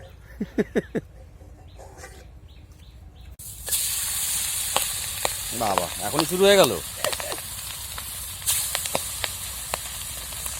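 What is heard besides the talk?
fish frying in oil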